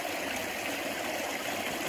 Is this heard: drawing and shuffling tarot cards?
no